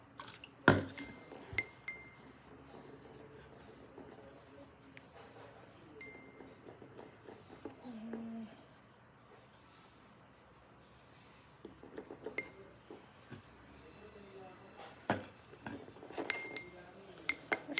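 A spoon stirs and clinks against a glass in quiet, scattered taps and chimes, with a few sharper knocks and faint background noise.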